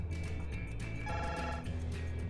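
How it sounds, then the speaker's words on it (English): A telephone rings steadily in the horror video game The Man in the Window 2, a continuous electronic ringing tone over a low background hum, with no talking. "Oh boy, the phone's ringing."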